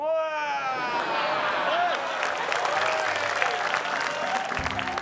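A studio audience applauds steadily throughout, a dense wash of clapping with a brief whoop or cheer at the start, loud and continuous until it tapers near the end.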